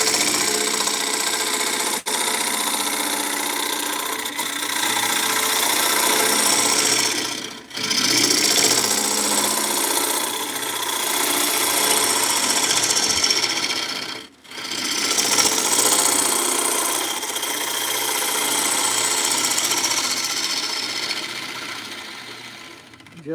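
Wood turning on a lathe with an Easy Wood mid-size hollower, a continuous close scraping hiss of the cutter against spinning wood, broken by two short pauses where the tool lifts off.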